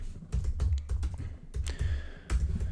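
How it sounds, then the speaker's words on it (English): Fingers tapping out words on a computer keyboard, a quick, close run of crisp key clicks in short bursts with brief pauses between them and no talking. "So if you had a different keyword, for example, type in keto diet."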